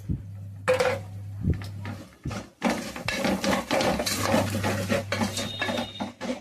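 A spoon stirs chicken biryani masala in a metal pot, with repeated scraping and clanking strokes, close and fairly loud, and a low steady hum underneath.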